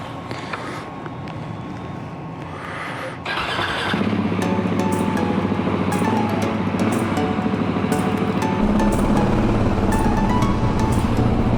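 Motorcycle fitted with a fuel dongle and a recluse clutch, a 701, cranked and then fired up at close range. A starter whirs briefly, then the engine catches and idles loudly and steadily, and revs higher near the end.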